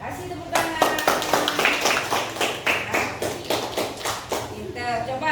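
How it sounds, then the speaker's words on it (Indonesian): A classroom group of children clap in applause, a sustained burst of close, dense hand claps with irregular rhythm and rising intensity across the stretch. "Kasih tepuk tangan."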